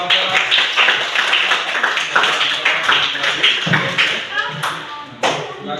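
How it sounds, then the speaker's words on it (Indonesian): A classroom of students applauds a group, with dense, steady clapping and some chatter and shuffling mixed in, loud and close. "tepuk tangan dulu untuk kelompok"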